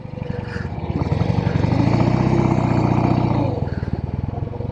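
A classic Norton Atlas 750 motorcycle engine chugs close by as it is shifted into first gear, the throbbing exhaust swelling briefly in the middle, then settling back to a loping idle.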